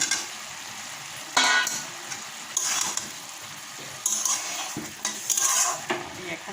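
Potatoes frying in a pan make a soft sizzle under several bursts of spoon scraping and clanks of cookware against the pan, with no talking.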